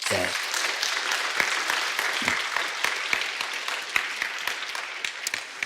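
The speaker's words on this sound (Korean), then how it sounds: "우리 감사하는 마음과 격려하는 박수 한번 드리겠습니다." Church congregation applauding after a worship song at a Sunday service, a dense patter of claps with some voices underneath throughout.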